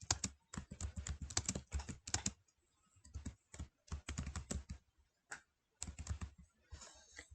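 Typing on a computer keyboard during a Cricut Design Space stencil setup. Several close, rapid bursts of key clicks are separated by short pauses.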